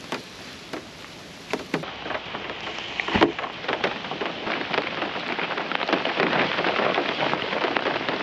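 Heavy rain pours down at a campsite in Australia, falling steadily onto an air tent with a dense, constant hiss, dotted with louder individual drips and taps that thicken toward the end.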